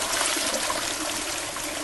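A toilet flushes up close, a loud continuous rush and swirl of water that holds steady for about two seconds, with no talking.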